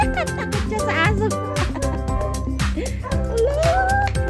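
A pet puppy yips and barks in quick, busy bursts at close range, with whimpery high notes mixed in among other lively sounds throughout.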